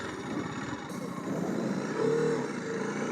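A 2025 TVS Apache RR310 motorcycle engine pulling away in third gear, a close, low buzzing drone that swells slightly in loudness partway through and holds steady, with no talk over it.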